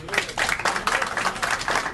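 An audience at a legislative hearing claps in a scattered, moderately loud burst of applause, with talking mixed in beneath it.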